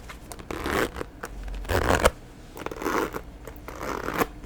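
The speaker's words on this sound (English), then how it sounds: "it zips really easily" Zipper on a shoe bag being zipped, with gold detailing and a leather handle: several short, close rasping zip strokes in bursts with pauses between, heard alone at close range.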